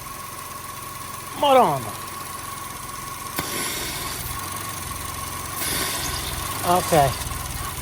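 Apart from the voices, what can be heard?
Chevy Sonic/Cruze engine running rough with suction noise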